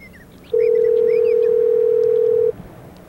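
A steady telephone dial tone holds for about two seconds over faint background noise, just ahead of an answering machine greeting.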